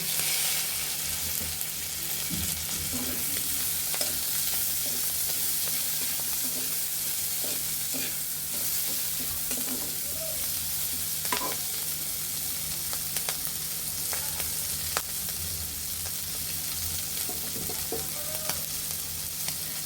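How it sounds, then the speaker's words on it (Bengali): Prawns and green chillies fry together in a pan for chingri chorchori, a steady close sizzle with scattered stirring scrapes and clinks throughout, no talk. "এখন একসাথে ভালোভাবে বেজে নিতে হবে"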